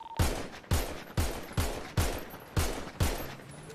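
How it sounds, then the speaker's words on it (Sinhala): Rapid video game gunfire aimed into bushes, seven sharp shots in a quick, fairly even rhythm. Each shot is punchy and close, with a short tail, and no talk is heard. "මම මම පඳුරු වලට ෂූට් කරනවා සර්"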